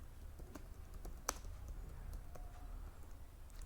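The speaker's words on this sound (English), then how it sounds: "So let me type in" Sporadic clicks of typing on a computer keyboard, faint and close, with a few isolated keystrokes and one sharper tap over a quiet background hum.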